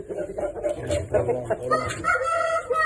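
Chickens crow and cluck close by in a busy, noisy poultry market in Qumtepa, Fergana, with people talking in the background.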